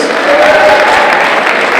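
Graduation ceremony audience applauding, a steady dense wash of clapping hands filling the hall at close range, loud and continuous without any talk over it.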